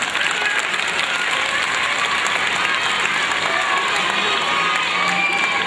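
A loud audience claps and cheers at a school computer learning center inauguration, a dense roar of applause mixed with crowd noise and children's shouts.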